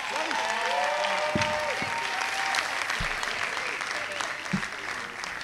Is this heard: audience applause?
yes